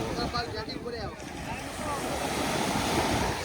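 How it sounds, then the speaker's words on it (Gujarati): Ocean waves wash onto the seashore at Somnath, a steady roaring surf mixed with wind buffeting the microphone, with faint voices at the start. "દરિયા કિનારો"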